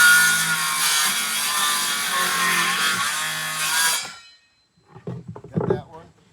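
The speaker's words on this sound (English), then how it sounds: "I'm gonna try and cut this without making too much of a mess." A hand saw cuts through wood with steady back-and-forth rasping strokes for about four seconds. It stops abruptly and a few short, scraping handling noises follow.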